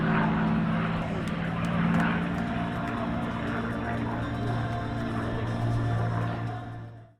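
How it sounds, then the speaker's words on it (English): A P-51 Mustang named Plum Crazy flies at an airshow, its propeller engine giving a loud steady drone that holds for several seconds, then fades sharply at the end. "the beautiful P-51 Plum Crazy"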